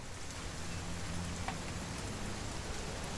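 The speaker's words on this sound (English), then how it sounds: "It's gonna rain the whole weekend," Rain falls steadily in the video game What Remains of Edith Finch, a dense, even patter of drops with no pauses and no talking.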